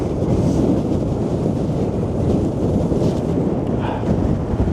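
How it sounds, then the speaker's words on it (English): Strong storm wind howling along a Blackpool seafront at high tide, a loud constant low roar and buffeting on the microphone that continues without a break, and no one speaks. "And the wind's still picking up, blowing like an absolute hooligan."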